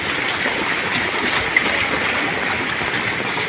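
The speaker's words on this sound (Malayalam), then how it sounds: "ഇതിലൂടെയാണ് വെള്ളം വന്ന് ചാടുന്നത്" Floodwater gushes and rushes continuously into a channel beside a petrol pump in Kondotty, a steady loud churning flow close by.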